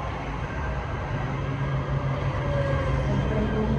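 A Metrolink train arriving at Burbank Downtown station, heard as a steady loud rumble and rolling rail noise close by, continuous throughout.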